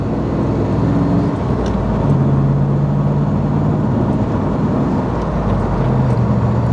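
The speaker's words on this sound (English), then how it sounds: "Foot's on the gas, clutch is out, first gear." A 1997 Chevrolet Camaro SS accelerating in first gear, its engine a steady low drone with rising tones under heavy road rumble, heard continuously from inside the car.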